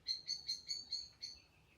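A blackbird sings near a wildlife hide, a run of six clear, evenly spaced high chirping notes followed by a softer trailing call, fairly faint against a quiet background.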